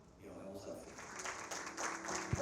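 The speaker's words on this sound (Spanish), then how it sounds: "todavía puede ser mucho más fuerte el aplauso para nuestros invitados" An audience claps for the guest co-directors at a cine club screening, with a dense patter of applause swelling in after a brief quieter start and continuing steadily.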